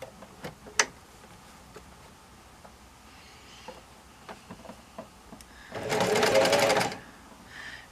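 Domestic sewing machine stitching a quarter-inch seam through slippery quilted bag fabric, a steady whirring run of about a second after scattered small clicks and handling taps, fairly close and moderately loud.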